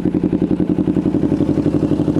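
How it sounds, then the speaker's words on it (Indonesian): A Kawasaki Ninja 250 motorcycle engine with an aftermarket exhaust idles close by with a rapid, even, throbbing exhaust pulse, loud and steady throughout. "Kita mulai coba aktifin lagi ya, hidupin lagi motornya."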